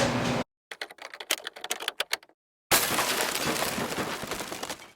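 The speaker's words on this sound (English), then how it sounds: "the one I'm using today is the spiralizer. I'm going to be using this to peel and cut my apples." A spiralizer attachment peels and cuts apples, giving a quick series of sharp mechanical clicks and crunches that leads into a loud, continuous grinding whir of the blade working through the fruit, close up with no talking.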